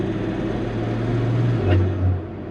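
A car with an 8HP automatic transmission under load, running with HTG tuning, gives a steady low engine drone whose pitch steps down with a quick upshift near the end, with no voices.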